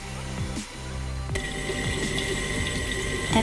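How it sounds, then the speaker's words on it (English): Cold water from a tap runs over a cosplay gem piece, a close, steady faucet stream that starts abruptly after a brief handling sound and keeps splashing without a break. "you're going to run it under some cold water until it turns nice and nice and white again"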